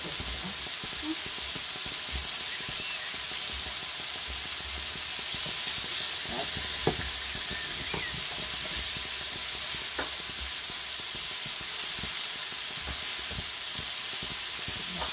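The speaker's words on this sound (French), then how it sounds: "On remélange un petit peu la farine pour pas que ça crame." A pan-fry of knacki sausages dusted with flour sizzles steadily, a broad close hiss with occasional scrapes and taps of a utensil stirring through it, no talking.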